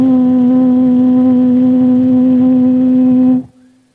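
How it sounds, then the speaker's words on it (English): Ear ringing from an eardrum ruptured in two places, rendered as a loud, steady, pure tone with faint overtones that holds unbroken for several seconds before fading out abruptly. "I had this really bad ringing in my right ear."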